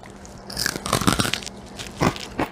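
Close crunchy bites and chewing of cooked pig tail, several loud crackling crunches in irregular bursts with short pauses between.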